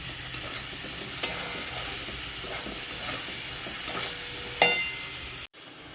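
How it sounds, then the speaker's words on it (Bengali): Spiced masala with tomatoes fries and hisses in a pan, a continuous close sizzle with occasional scraping stirs before cutting off abruptly near the end. "টমেটোগুলো একটু হয়ে গেলে মশলাটা ভাজা হয়ে এসছে"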